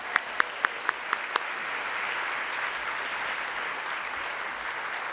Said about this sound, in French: Une bonne main d'applaudissements pour l'équipe technique.